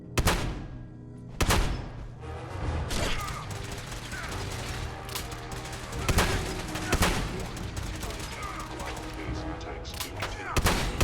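Heavy gunfire in a Fallout 4 firefight inside a control room: repeated loud shots and bursts crack throughout, with sharp blasts near the start, at the middle and at the end, over constant rumble and a brief voice.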